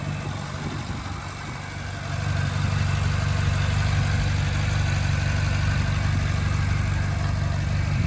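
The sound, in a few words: naturally aspirated V8 engine idling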